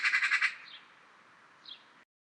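A Eurasian magpie gives a loud, harsh, rasping chatter of rapid pulses, then fades to a faint hiss with one brief, weaker squawk near the end.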